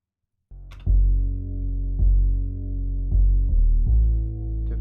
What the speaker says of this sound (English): And the bass sounds like this.